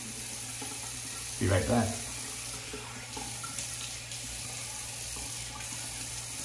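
A bathroom tap runs for rinsing a razor, a soft steady hiss of water from close by with a brief louder splash early on, and a voice speaks over it.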